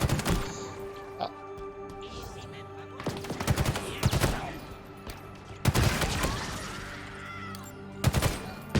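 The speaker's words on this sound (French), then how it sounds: "Ça fait des explosions comme ça" Halo Infinite gameplay with repeated bursts of gunfire and sharp explosion blasts clustered in volleys, over a steady game background hum, with occasional quiet talk underneath.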